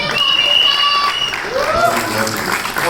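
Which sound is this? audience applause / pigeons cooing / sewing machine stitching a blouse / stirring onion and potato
audience applause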